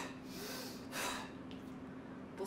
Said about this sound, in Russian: сейчас я вам покажу, как я дышала